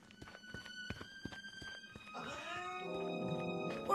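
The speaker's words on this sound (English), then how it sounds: "Oh man, I think I landed on a kitten" A frightened kitten in a cartoon meows in a drawn-out, wavering cry that rises over the second half, preceded by a series of light rhythmic taps or footsteps.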